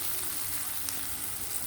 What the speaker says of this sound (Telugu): ఈ వంకాయలు కూడా వేగిపోయాయి